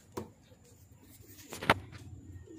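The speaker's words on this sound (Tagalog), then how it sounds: "Ayan ang mga ibon na healthy." Pigeons in a loft give a few soft coos and brief wing or bird sounds, with short bursts spaced across a quiet background, close and moderately loud.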